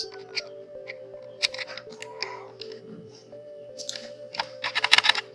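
Typing on a computer keyboard during a graphic design session, quick irregular clusters of close, crisp key clicks with short pauses, growing denser toward the end over a faint background hum.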